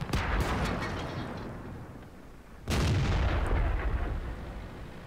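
Tank cannons fire in World of Tanks during a T20 battle, with two sharp, loud booms, one at the start and another midway, each trailing off into rumbling battle noise.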